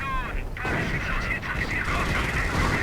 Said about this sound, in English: he's losing so much to that registered artillery